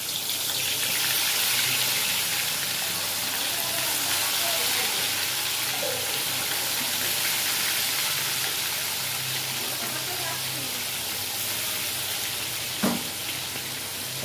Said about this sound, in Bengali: তেলটা গরম হলে প্রথমে মাছটা ভাজতে হবে ভালো করে।